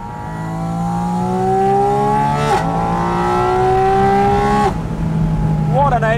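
A Porsche 718 Spyder RS with a high-revving flat-six rises and falls in pitch close by, loud, with a brief rev flare near the end and a voice speaking over it at moments.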